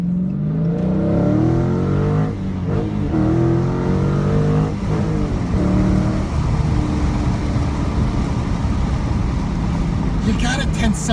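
A 2017 Dodge Challenger T/A 392 V8 roars under full throttle, its loud engine note climbing through steady acceleration close by, with a brief clatter near the end.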